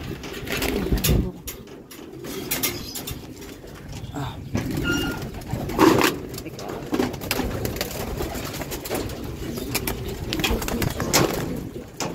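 Racing pigeons coo steadily in a loft, low throaty calls repeating close by with occasional wing flaps and faint background voices.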